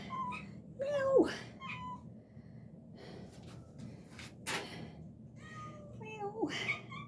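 A cat meows several times close by on an evening walk, its calls mixed with breathy gasps and a person speaking and calling to it.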